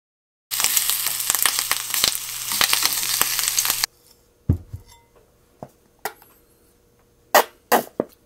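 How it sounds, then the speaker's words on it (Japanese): Bacon sizzles loudly in a hot pan for about three seconds, a dense crackling hiss, then cuts off, followed by a few sharp clinks and taps from utensils amid quiet. "ベーコン焼いただけです。"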